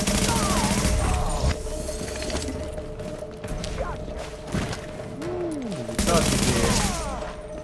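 Bursts of gunfire in the video game Tom Clancy's The Division, several loud shots over a steady, droning game soundtrack.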